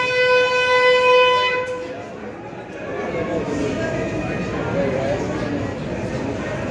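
Saptashrungi ropeway cable car at Vani near Nashik starts with a long horn-like tone, then settles into a steady, loud rumbling drone like an approaching train.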